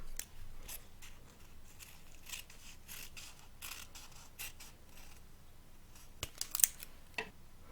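Scissors cut through folded grosgrain ribbon in a quiet, close series of crisp snips and small mechanical clicks, ending with a few sharper cuts.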